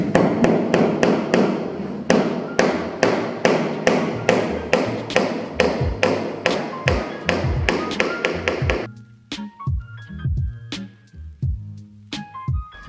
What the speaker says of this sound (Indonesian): ini gue mulai paku dan gabungkan dua buah thick block ini